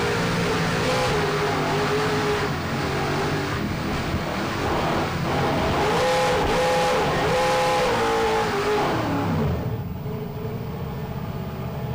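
A Supercat racing powerboat pounds through rough seas, its engines a loud, close, sustained roar with shifting revs and rising and falling pitch before easing near the end, under wind and water rush.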